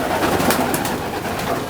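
Racing pigeons in a loft coo and murmur close by, soft throaty calls repeating over a steady background with no talking.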